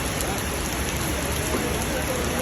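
Heavy rain falling steadily, a dense, even close-up patter and hiss that fills the whole stretch without pause.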